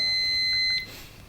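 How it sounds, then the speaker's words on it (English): A meeting timer at a town council session gives a steady, piercing electronic beep for nearly a second and then stops, loud and close, with quiet room tone after it. "Is that the timer when it goes off?"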